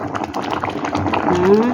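A pot of vegetable stew in coconut milk bubbles and simmers with soft gurgling beneath a voice speaking close by.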